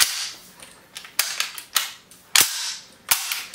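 Six sharp, loud rifle shots from an M1 Garand at a Korean War shooting session, fired at irregular intervals with brief crisp decays and no talk.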